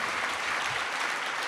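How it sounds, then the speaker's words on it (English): A steady wash of applause from a room full of people, dense and even throughout without any breaks. "Give them a round of applause."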